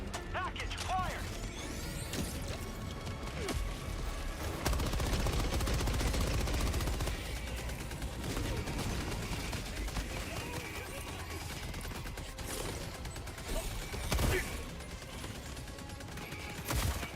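Sentry turret in Helldivers 2 firing continuously, a dense mechanical rattle of rapid gunfire with clanking and creaking mechanisms, steady and loud throughout with a few sharper bursts near the end.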